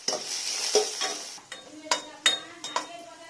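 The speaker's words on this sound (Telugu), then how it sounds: "అదే బాండీలో చిన్న చిన్న ముక్కలుగా కట్ చేసుకున్న అల్లం ముక్కలను కూడా వేసుకొని వేపేసి తీసుకోవాలి" Small chopped ginger pieces fry in a pan with a soft steady sizzle, broken by several sharp scraping stirs of a spatula against the metal, close and clear.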